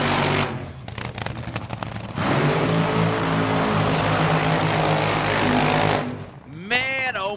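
Fuel altered drag race cars at a Tucson strip fire with sharp popping bursts, then a loud sustained roar of revving engines, trailing into a rising whine at the end, with an announcer talking over it.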